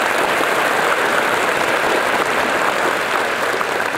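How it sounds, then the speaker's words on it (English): Steady, dense applause from a large commencement audience at the University of South Florida St. Petersburg, loud and continuous throughout with no voices standing out. "so if we can give another round of applause for them"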